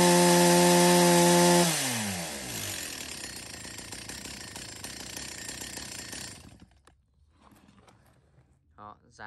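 STIHL 024 AV Super 44cc chainsaw with aluminum block running loud at high revs, then winding down as the engine dies, followed by a few clicks and knocks.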